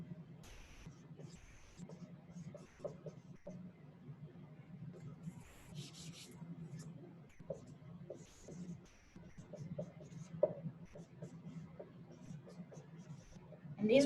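Writing is erased from a board with soft, repeated rubbing strokes, quiet and close, with short pauses between passes and a faint hum underneath.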